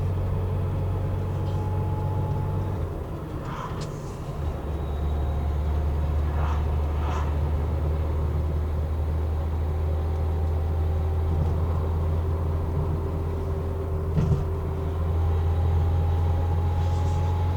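A Porsche 911 2.7 S is driving with a steady, low engine rumble and a faint mechanical whine, heard from fairly close. The sound stays even and unbroken, with no voices.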